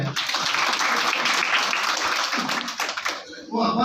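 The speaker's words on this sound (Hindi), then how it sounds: "उनके लिए जरा जोरदार ताली हो जाए।" Audience applause at a gathering in Parbhani, a dense burst of clapping that holds fairly loud for a few seconds before thinning, with voices mixed in and a speaker starting again at the end.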